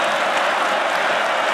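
A basketball arena crowd at Wake Forest versus North Carolina roars and claps in a dense, sustained wash of cheering and applause, loud and unbroken, with no clear voice above it.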